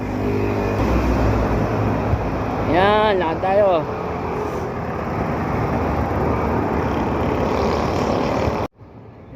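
Road traffic with cars and trucks rumbles along a road at Boso-Boso, a dense, continuous engine drone close by, with someone speaking briefly over it and a sudden cut near the end.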